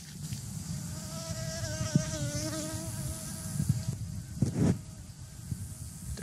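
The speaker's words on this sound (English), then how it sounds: "It sounds like bees." Loud insect buzzing with wavering drone tones, several bees hovering close by, with a few faint knocks and bumps underneath.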